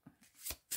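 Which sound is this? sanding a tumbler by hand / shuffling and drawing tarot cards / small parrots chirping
shuffling and drawing tarot cards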